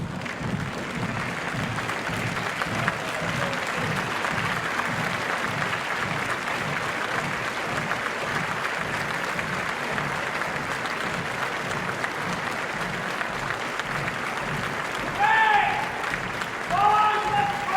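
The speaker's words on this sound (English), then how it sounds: "We're hearing applause" Sustained applause from a crowd at an outdoor royal proclamation parade for King Charles III in Gibraltar, steady and dense throughout, with brief whistles or shouts rising near the end.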